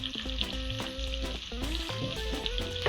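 Lobster frying in a pan with butter, scallion greens and minced garlic gives a busy, close sizzle and spatter, with faint tonal sounds in the background.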